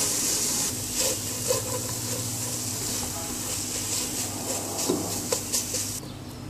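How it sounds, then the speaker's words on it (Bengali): Bitter gourd fries in a pan over low heat with no oil while being stirred, a soft steady sizzle broken by faint scraping strokes throughout. "চুলা কম তাপে রাখব, ভালোভাবে নেড়ে দিব।"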